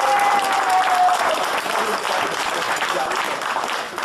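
Sustained applause from a crowd at a birthday celebration in Lachamp-Raphaël, dense and steady clapping filling the whole stretch, fading slightly toward the end.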